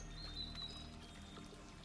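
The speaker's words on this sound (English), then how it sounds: "You're only paying attention to the sound of the birds." Faint birdsong with a few thin chirping calls over a quiet bed of trickling water and wind chimes.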